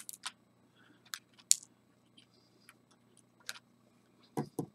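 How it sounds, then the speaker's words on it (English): Small wire cutters, little shears used for soldering 9V battery wires, snip a few times in sharp isolated clicks spread out over a quiet background, close and fairly faint. "little wire cutters. They cut very nicely."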